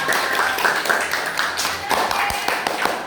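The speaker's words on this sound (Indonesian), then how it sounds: "terima kasih tepuk tangan untuk kelompok kalkulator" Classroom clapping for a group of sixth-grade students presenting on calculators, a patter of hand claps of moderate loudness with children's voices mixed in.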